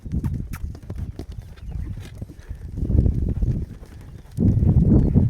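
A horse lopes around an arena after time off, its hooves drumming in a steady three-beat clip-clop that comes in loud, close waves.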